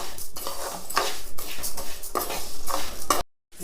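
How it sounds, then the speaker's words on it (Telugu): Fenugreek seeds dry-roasting in a pan while a spoon stirs them, making repeated scraping, rattling strokes with small clinks against the metal, loud and close, then a sudden stop near the end. "మెంతులు అన్నీ వేసుకొని మంచిగా చెమ్మంతా శుభ్రంగా తడి లేకుండా మంచిగా వేయించుకోవాలి"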